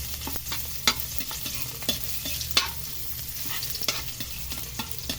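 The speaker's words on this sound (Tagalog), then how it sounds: "magigisa naman tayo ng ricado. Wala nating ilagay bawang, simple" Garlic sautéing in a pan for a fried milkfish and string bean dish, a soft continuous sizzle with intermittent spoon clicks and stirring scrapes, close and moderately quiet.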